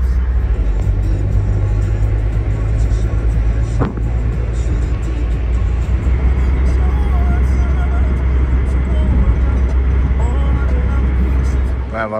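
Car ride to the airport in Iran, with a steady low engine and road rumble throughout and people talking over it inside the cabin.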